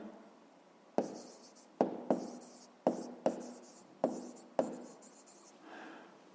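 Pen writing by hand on paper during a school math exercise, heard as about seven sharp, close strokes or taps in an irregular rhythm over a quiet background.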